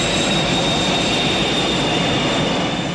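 Aircraft rolling down the runway on its takeoff run, a steady, loud broadband roar of engines and wheels with a high whine held throughout and no let-up.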